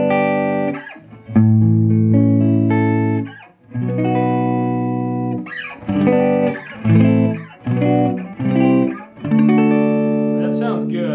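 Electric guitar heard after its bass-side pickup is lowered: a few sustained chords ring out first, then shorter, choppier strums follow, loud and close with no other sounds.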